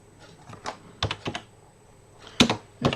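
Keystrokes on a French AZERTY computer keyboard during a Linux live session, sounding as scattered close clicks and short bursts of taps with pauses between them, no voices.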